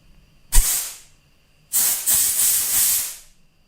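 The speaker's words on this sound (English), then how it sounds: "Get your nice air compressor. Just put it right up to the front" Compressed air from an air compressor blasts through a gunked-up part at the front of an abused, non-running dirt bike. A short sharp hiss is followed by a longer, steady rushing burst, close and loud.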